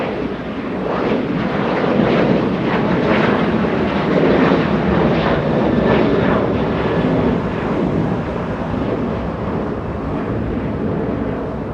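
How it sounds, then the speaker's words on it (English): A United airliner bound for Honolulu departs Los Angeles International Airport, its jet engines producing a loud, sustained roar that swells and lingers over about twelve seconds, with no voices. "The departure United 2650 flying to Honolulu."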